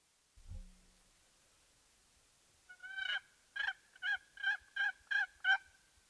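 A wild turkey gobbles during a spring hunt in the Maine woods, a run of about eight rapid, rattling notes at moderate distance after a brief thump, otherwise quiet.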